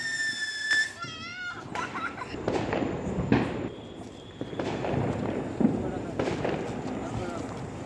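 Firecrackers set off during Diwali family celebrations, sharp bangs and crackles bursting at intervals amid background chatter and children's voices.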